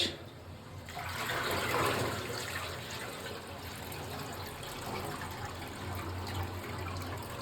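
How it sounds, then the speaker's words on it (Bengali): Water runs and trickles steadily nearby in a home kitchen where meat is being prepared, a continuous moderate gushing flow with no speech. "এই জল লিক করছে"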